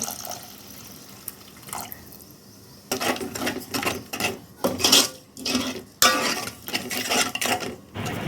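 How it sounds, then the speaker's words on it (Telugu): Water from a glass is poured into a pan of egg and green peas gravy, giving a short splashing, bubbling burst after a quieter stretch, with clinks of utensils around it. "ఒక గ్లాస్ వాటర్ పోసుకుందాం కొంచెం గ్రేవీ రావడానికి."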